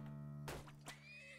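A horse neighs in the game Turmoil, a short whinny bursting out over a steady droning tone with a second brief cry shortly after, fairly close and clear.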